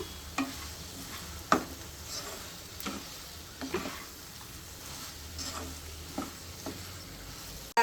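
Okra fry, vendakkai varuval, stirred in a pan over low heat, with a steady sizzle under repeated scraping strokes of a spoon, close and moderately quiet, no voices.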